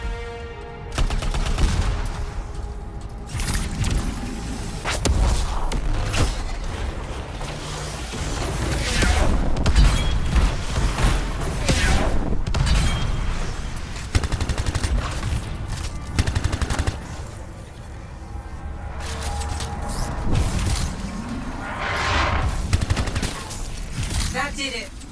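Turret gunfire in the game Anthem at an abandoned camp, a dense, sustained fusillade of rapid shots and booms running nearly throughout, loud and layered with battle noise.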